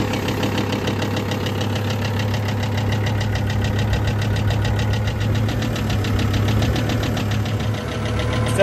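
A Kubota L3750 tractor's diesel engine warms up at idle, a steady near knocking chug running without pause and with no talk over it.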